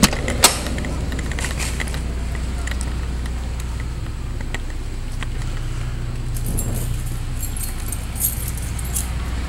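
Keys jangle in bursts over a steady low hum and broadband noise, with clinking transients near the start and again later, fairly close.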